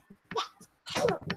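A small dog gives a couple of short, sharp sneezes close by, with a brief snort between them.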